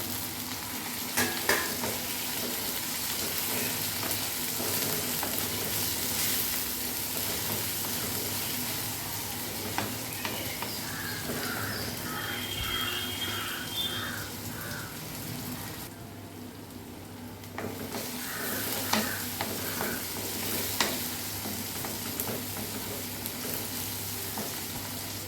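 Kerala-style squid curry masala with chopped tomato added sizzles steadily in a pan, a constant hiss of frying broken by occasional stirring scrapes and clinks.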